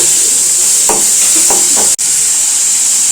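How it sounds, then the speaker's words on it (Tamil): Garlic, onion, tomato and curry leaves fry in a pan with a steady, loud sizzle, and a few soft stirring scrapes come through near the middle. "இது நல்லா ஃப்ரை பண்ணிவிட்டு நல்லா வதங்கட்டும்."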